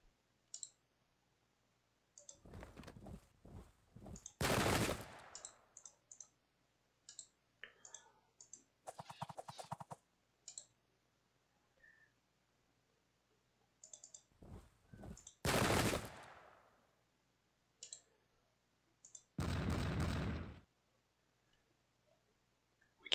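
Musket volley fire in the Pike and Shot strategy video game, a few loud crackling volleys separated by pauses, with interface clicks in between and no talking.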